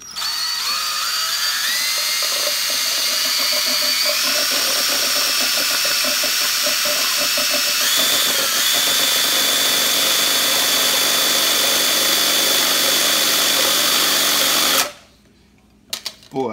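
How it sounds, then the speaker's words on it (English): A DeWalt drill fitted as an egg beater whirs steadily while whisking four eggs with diced ham in a bowl, a loud continuous motor whine that shifts pitch slightly before cutting off near the end. "I'll mix it up with my DeWalt egg beater"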